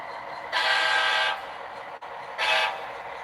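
A train hauling a rail boxcar sounds two short horn blasts over a low, steady running rumble, the first lasting under a second and the second shorter, loud and nearby.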